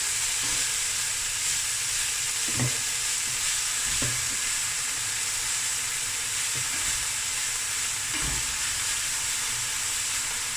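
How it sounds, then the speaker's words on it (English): Kale and spinach frying together in a pan give a loud, continuous sizzle and hiss, with a few soft stirring thumps spaced through it. "kale takes longer to cook than the spinach, so I'm going to let this just fry together"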